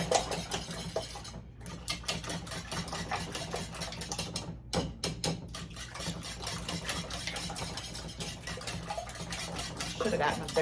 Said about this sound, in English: we're going to whisk these babies up